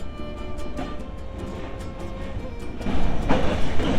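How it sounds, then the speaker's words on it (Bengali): Train pulling out of Rajshahi railway station in Bangladesh, a steady rumble of railcars with soft rhythmic clatter of wheels that grows louder toward the end, with no talking. "আস্তে আস্তে আমাদের ট্রেন রাজশাহী রেলওয়ে স্টেশন অতিক্রম করে বেরিয়ে যাচ্ছে"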